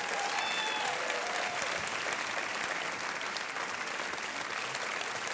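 Steady, loud applause from a studio audience on an Indian television quiz show, continuous and dense throughout, with faint voices underneath.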